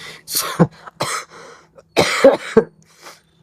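Someone coughs repeatedly nearby, a few harsh rough bursts and throat clearing spread over a few seconds, loud and close.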